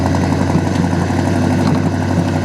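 A 1969 Oldsmobile 442 with a 455 V8 and automatic transmission idles while warming up, giving a loud, steady low rumble heard close and alone.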